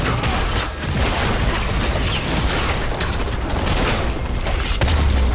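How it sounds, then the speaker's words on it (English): A turret being destroyed in League of Legends during a top-lane Sett versus Volibear match: a dense, continuous roar of booming blasts and crashing debris, loud and close throughout, with a sharper impact near the end. "Red team's turret has been destroyed."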